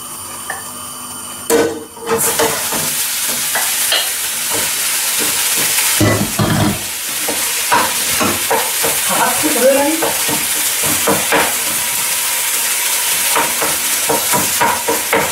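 Minced meat frying in oil in a pan, a steady loud sizzle running throughout with scraping stirs and clattering utensil knocks scattered over it.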